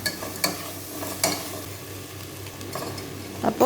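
Ivy gourd (kovakka) stir-fry gets stirred in a pan: a low, steady sizzle under several sharp scrapes and clinks of a utensil against the pan, spaced irregularly and louder near the end.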